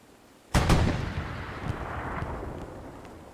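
A tank in the WWII game Hell Let Loose takes a hit: one loud, sharp cannon blast with a deep boom, followed by a long rumbling decay and faint distant shots.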